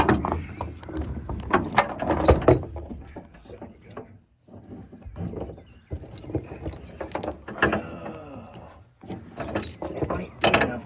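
A load binder on a barn-find VW Bus Transporter is ratcheted in irregular bursts of close metallic clicks and clanks, with short pauses between them.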